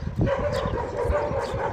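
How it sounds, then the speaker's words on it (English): Several dogs bark and yip in rapid, overlapping bursts outdoors at a man in a sleepy Russian town by the Black Sea, agitated and moderately near, with a steady hum of background noise. "the dogs are barking like crazy at that guy."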